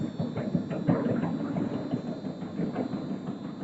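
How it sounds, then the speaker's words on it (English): Tons of galvanized steel in an observatory dome grind and rumble continuously as the dome rotates around a one-meter telescope, a low, rolling mechanical drone with no voices. "That is the sound of tons of galvanum coated steel rotating around the 1 meter telescope"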